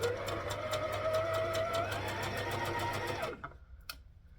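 A sewing machine runs a straight stitch through rash guard fabric, a fast, close, steady mechanical whirr with rapid needle ticking that stops abruptly after about three seconds, leaving a faint click.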